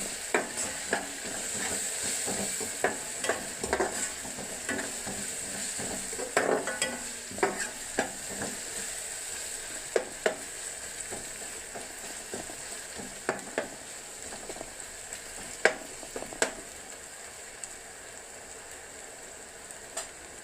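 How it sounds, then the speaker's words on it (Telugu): Onions and ginger garlic paste fry in a pan for a fish curry, a continuous soft sizzle with occasional scraping clinks from stirring, steady and moderately quiet throughout. "ఇందులో మనం ముందుగా కాస్త అల్లం వెల్లుల్లిపాయ పేస్ట్ని ఆనియన్స్తో పాటు వేయించుకుందామండి."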